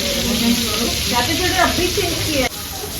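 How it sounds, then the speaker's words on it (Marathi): Oil hisses and sizzles loudly and steadily as Bangda and Mushi fish fry, with faint muffled voices behind it before the sizzle drops suddenly near the end. "आणि त्यातल्या त्यात मच्छी तळणं टाकलं"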